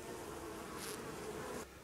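Honeybees buzz steadily at a hive in late afternoon during feeding, a faint, continuous drone with a brief brighter swell partway through before it quiets slightly.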